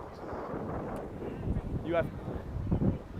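Gusty outdoor wind buffeting a microphone at a men's university rugby match, rumbling in uneven surges with voices heard faintly underneath.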